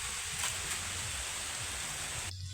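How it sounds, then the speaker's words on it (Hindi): Light rain falling outdoors as a steady, soft hiss with a low background rumble, continuous and even throughout. "देखिए बारिश हो रही है"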